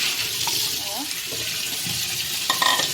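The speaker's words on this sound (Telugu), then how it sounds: "ఇవైతే ఇట్లా మంచిగా పిసికి మంచిగా కడుక్కోవాలి" Sprouted grains are rinsed and squeezed by hand under water, giving soft sloshing and trickling sounds with a few small splashes, close and fairly quiet, with a clatter near the end.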